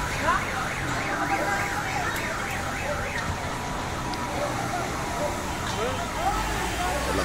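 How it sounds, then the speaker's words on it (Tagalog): An ambulance siren wails in a steady repeating up-and-down sweep near a fire, running continuously beneath a constant roar of crackling and crowd noise. "Ano yun? Ambulansya?"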